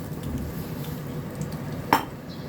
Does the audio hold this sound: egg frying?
yes